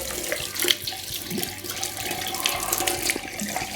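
A kitchen tap runs steadily into a sink while dishes and utensils are rinsed by hand, with close, continuous splashing and a few faint clinks.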